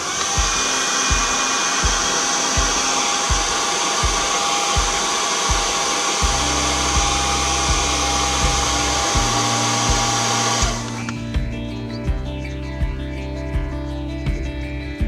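A hot-air blower heating an old FASTag sticker on a car windshield roars steadily and close throughout. Its tone shifts partway through, with faint rhythmic tapping underneath.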